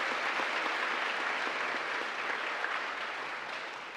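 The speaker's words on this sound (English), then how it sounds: "can we give another big round of applause" An audience at a university State of the University address applauds a men's glee club, a broad, even wash of many hands clapping that continues throughout and fades a little toward the end.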